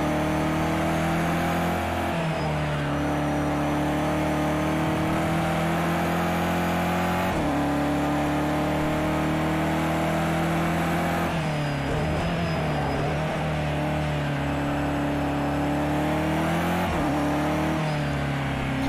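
A race car engine in the video game Project CARS 2, at the Nürburgring 24-hour event, drones loudly and steadily throughout, its pitch stepping through gear changes and rising with acceleration; no talk.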